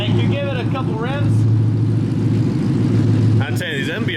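A supercharged 2024 Ford F150 with a Whipple blower and MBRP exhaust on 22-inch wheels, its engine rumbling steadily at close range with a slight rise in revs, while people talk over it at the start and end.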